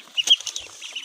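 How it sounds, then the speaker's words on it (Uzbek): Young ducklings and chicks, Indo-ducks, Agidel and runner ducks, give a few faint, high, short peeping calls close by on a farm, with no talking. "Indoudka, Agidel, begunok o'rdalarimiz, jo'jalarimiz"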